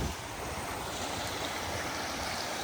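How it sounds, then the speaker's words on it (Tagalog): Rushing floodwater in Borongan during heavy flooding, a steady broadband roar of fast-flowing water, continuous and fairly distant with no voices. "Ang laking pagbaha."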